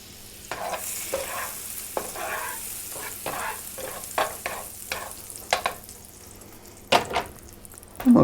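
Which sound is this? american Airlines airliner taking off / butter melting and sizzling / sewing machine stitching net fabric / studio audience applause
butter melting and sizzling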